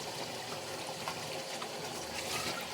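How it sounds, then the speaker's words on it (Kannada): Coconut water pours steadily into uncooked rice for biryani, a continuous close liquid rush that holds at an even level throughout. "ಕಾಯಿ ನೀರು ಹಾಕ್ತಾಯಿದ್ದೀನಿ."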